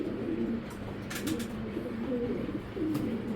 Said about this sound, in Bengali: এই যে একটা গড়া কবুতর